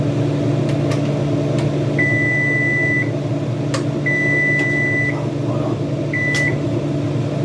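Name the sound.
kitchen timer beeping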